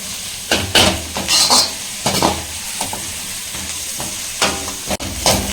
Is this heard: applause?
no